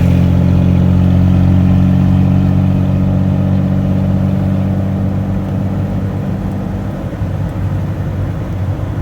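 A Mopar pickup truck's engine drones steadily and loudly as it drives, a continuous low rumble with no voices.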